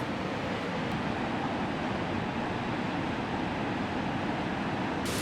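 Louise Falls, a waterfall along the NWT waterfall route, gives a steady, even rush of falling water heard from some distance, constant and moderately loud throughout.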